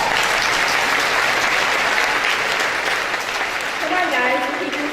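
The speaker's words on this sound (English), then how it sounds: "Let's take a moment to give them a round of applause." A graduation audience applauds teachers and school staff with sustained, dense clapping that fills the whole stretch at steady loudness, broad and crowd-sized, with faint voices emerging near the end.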